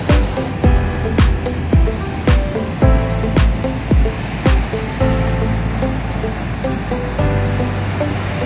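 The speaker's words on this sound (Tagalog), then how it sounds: "Hampas ng alon dito sa may Zambales." Ocean waves crash on the shore at San Felipe, Zambales, a loud, continuous surf roar with repeated sharp splashing hits every second or so.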